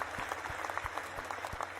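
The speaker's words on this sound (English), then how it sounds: "Round of applause for Dave McKeegan now that the button's fixed." Applause welcoming guest Dave McKeegan on a comedic debunking show, steady close clapping with a low rhythmic thumping underneath, brief and fairly even.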